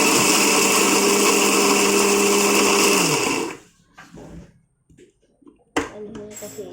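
An electric grinder whirs loudly for about three and a half seconds grinding dried ginger into powder, then cuts off, leaving faint clatter and handling noise with a short knock near the end.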